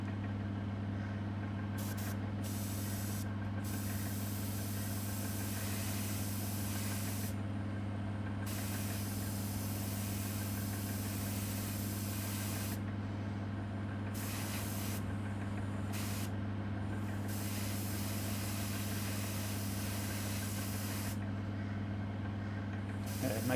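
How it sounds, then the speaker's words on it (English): Continuous hiss of an airbrush or spray can applying Tamiya red and brown paint to model railway trucks, steady and close, with a constant low compressor hum underneath and brief pauses in the spray. "Now the trucks are getting a coat of Tamiya red, brown and brown."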